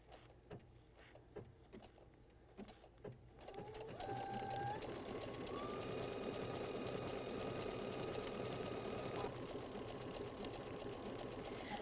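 A domestic sewing machine runs a blanket stitch along the edge of a fabric applique, starting with a few slow, separate clicks before settling into a steady, continuous mechanical whir with faint whining tones.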